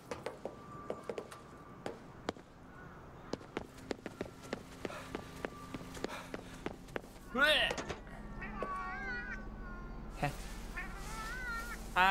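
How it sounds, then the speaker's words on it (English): Cats meowing in the Ghostwire Tokyo video game, a few drawn-out cries rising over scattered game clicks and footsteps, with a person talking over the game audio. "look at all the cats"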